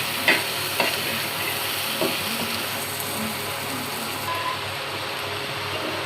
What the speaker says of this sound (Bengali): এই তো আর চিংড়ি মাছের জন্য মশলা কষিয়ে নেওয়া হচ্ছে